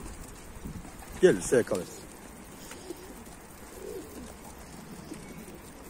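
Pigeons cooing outdoors where birds are being fed, a short burst of soft coos near the start, then quiet ambience; a person speaks briefly.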